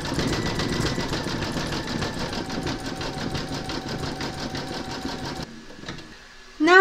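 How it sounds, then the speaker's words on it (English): An embroidery sewing machine stitches dense satin stitch on a gnome quilt block, a steady rapid needle clatter running close and loud for most of the clip before stopping, followed by a brief burst of voice at the end. "you're going to stitch round number 22, and that's going to do the satin stitching around his hands and his nose"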